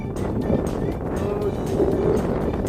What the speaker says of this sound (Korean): 바람이 좀 부네요